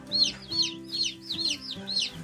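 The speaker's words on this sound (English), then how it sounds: "This Cornish cross chicken here, I bet will outgrow this Buff Orpington." Baby chicks, Cornish cross and Buff Orpington, cheep in a steady rhythm of about five shrill, close peeps under a low, constant hum.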